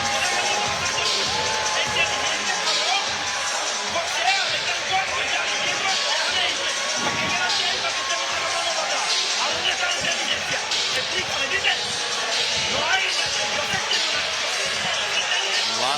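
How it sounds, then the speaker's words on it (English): A boxing crowd roars steadily through the co-main event bout between Raul Garcia and Emiliano Moreno, a dense, continuous arena din with commentators talking over it. "This crowd coming alive in this co-main event."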